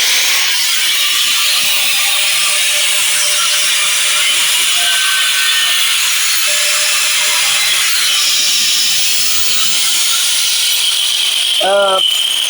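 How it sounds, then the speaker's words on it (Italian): An angle grinder cuts into the body of a bass guitar, giving a loud, continuous abrasive roar that holds steady throughout, with a brief squealing rise near the end. "E quindi questo punto andrà tagliato con un flessibile."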